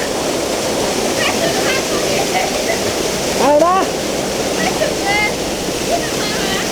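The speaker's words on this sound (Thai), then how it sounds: "อันนี้มันเป็นน้ำตกที่ไหลลงมาเป็นเบิร์กนะครับ" A jungle waterfall pours down into a stream in a steady, loud rush of water, with a voice briefly speaking over it and birds calling faintly.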